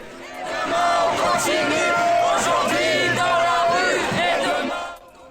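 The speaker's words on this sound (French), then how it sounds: "Des images assez impressionnantes d'une foule de gens." A large crowd of strike protesters marching toward a square in Lille, a loud, dense roar of many voices chanting and shouting together, continuous and close throughout before cutting off.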